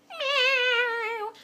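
Cat giving a single drawn-out meow, close and loud, lasting just over a second in a quiet indoor room.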